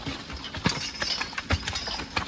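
A young horse walks with its hooves clip-clopping in an uneven rhythm of several steps, close and moderately loud over a steady background.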